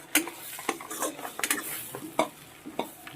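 A utensil stirs turmeric into goat brain fry in a pan, producing irregular scraping and clinking strokes over a soft sizzle, close and fairly quiet.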